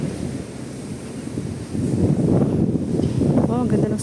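A breeze rushes past the microphone at a bus stop for the 814 bus to La Cresta in Sha Tin, a low steady blowing that swells in the second half, with a voice faintly audible underneath.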